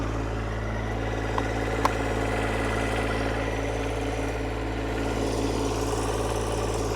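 A John Deere 1025r compact tractor engine runs at a steady, loud, close drone with a constant low rumble and a couple of faint clicks.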